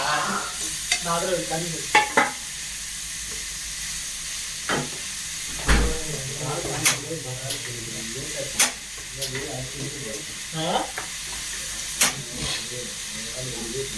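Onions with salt sautéing in a pan for a chicken curry: a steady close sizzle and hiss with repeated scraping stirs and occasional sharp utensil knocks against the pan, running throughout with no talk.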